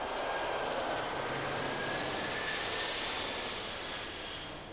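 A Boeing 747-400 roars loudly on takeoff with a broad, sustained engine rush that slowly fades toward the end, no voices present.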